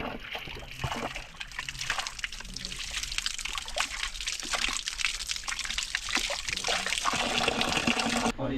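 Water sloshes and trickles steadily, as if poured from a bottle, over a rushing outdoor background, on a foggy, rainy mountain trek to Rudranath.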